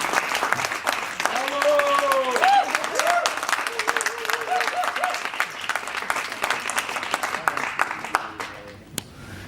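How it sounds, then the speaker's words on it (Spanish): Applause from an audience at a magazine launch presentation fills the room, steady and fairly loud for several seconds, with voices and shouts rising over the clapping before it thins out near the end. "un gran aplauso para todos los que participaron"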